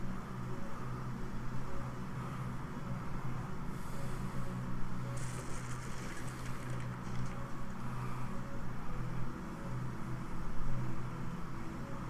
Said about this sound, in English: Sorry if you hear my fan in the background